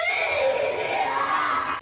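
A human voice imitates a dog's shriek with a loud, sustained, piercing screech that holds steady for nearly two seconds before cutting off abruptly.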